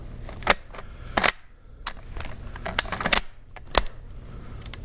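Dry metallic clicks and clacks from working the safety on a 1936-era Sauer rifle chambered in 8x57 Mauser, a series of irregular sharp snaps up close with quiet handling noise between them.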